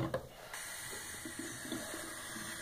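Tap water runs steadily from a faucet to wet someone's hair before a haircut, a continuous close hiss that starts abruptly and holds with slight splashing changes throughout.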